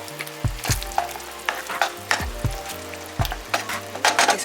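Pasta sauce warming in a pan on low heat before the pasta goes in: a close, soft sizzle and bubbling with repeated scraping and stirring knocks against the pan, no talk.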